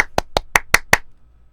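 Six sharp hand claps in an even, quick row, close and loud, followed by silence; they serve as an edit marker.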